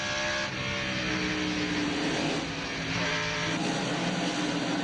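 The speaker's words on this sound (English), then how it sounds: "Jarrett is 3rd on the final lap of the Food City 250." NASCAR race cars on the final lap of the Food City 250, a steady roar of engines at racing speed, moderately loud and continuous with slight swells as cars pass.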